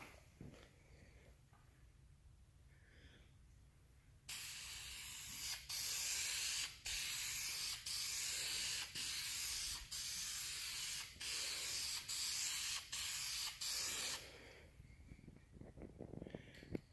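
Spray can applying a coat onto a car headlight, a series of loud close hissing bursts with brief gaps between strokes, preceded and followed by quiet room noise.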